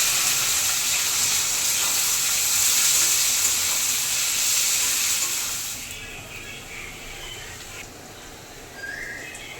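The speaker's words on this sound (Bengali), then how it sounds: "পেঁয়াজ লাল লাল করে ভাজা হয়ে গেছে" Sliced onions frying in hot oil with whole cumin, dried chillies, cinnamon, cloves and cardamom for mutton curry, a strong steady sizzle that drops to a quieter crackle partway through, with a faint click near the end.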